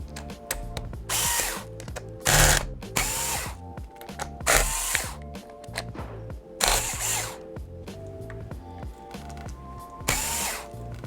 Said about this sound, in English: Now you can unscrew all the screws that are holding in the motherboard